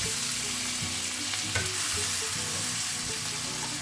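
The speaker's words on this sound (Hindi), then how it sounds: "सबको अच्छे से मिक्स कर लेंगे। प्याज को हम 5 मिनट पका लेंगे हाई फ्लेम पे।" Finely chopped onion and cut green chili fry in refined oil and a knob of butter over high flame for pav bhaji, a steady close sizzle with faint stirring scrapes and no talk.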